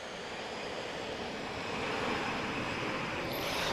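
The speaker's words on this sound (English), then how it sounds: "Temos então agora aqui um 320 EasyJet já a descolar." An easyJet Airbus A320 takes off at Lisbon Airport, a distant broad engine rumble that grows slightly louder, with no voices.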